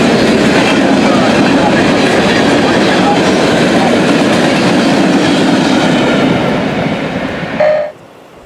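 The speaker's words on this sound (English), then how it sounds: "Nothing beats the sound of two SD40-2s running track speed at 60 miles an hour." A loud, steady roar of two SD40-2 diesel locomotives rushing past at 60 mph, with dense rumbling and rhythmic wheel clatter that cuts off abruptly near the end.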